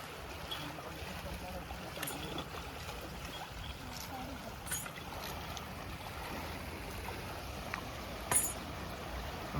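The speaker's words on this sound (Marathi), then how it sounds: "मस्त पाणी पडतंय तिथं" Water flows and falls along the Narmada river during a pilgrimage walk, a faint, steady rushing wash heard from a distance, with a few soft knocks and scuffs close by.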